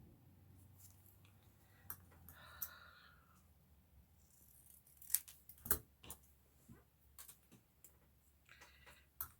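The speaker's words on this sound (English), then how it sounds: "I should use the longer scissors for this." Scissors cutting through card for journal cards, a few sparse close snips and crisp clicks scattered among quiet handling noises, faint and intermittent with no talk.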